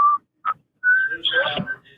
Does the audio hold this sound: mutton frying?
no